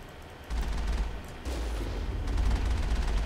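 Gunfire in the video game Mass Effect, loud rapid bursts of automatic fire in two long stretches, with low booming rumble beneath, close and dense with only a brief pause between volleys.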